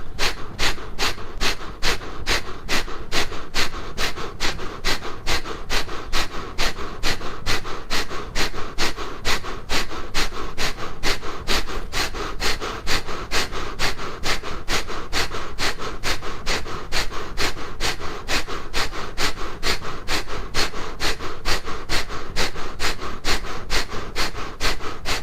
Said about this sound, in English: and begin breath fire.